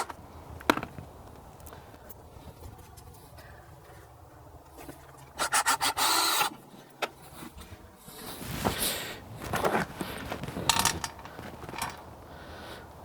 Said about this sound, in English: I am going to cheat though and use my screw gun here to screw these back in.